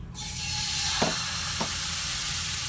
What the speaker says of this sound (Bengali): এখন কড়াইয়ের মধ্যে 1 চামচ ব্যাটার দিয়ে দিলাম